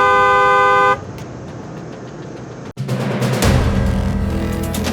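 Car horns honk on an expressway amid loud, steady traffic: a sustained horn blast for about a second, then a brief dip and a surge of dense vehicle noise and further honking close by.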